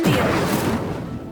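Incendio fire spell cast in Hogwarts Legacy, a single loud whooshing flare of flame that bursts then fades away over about a second.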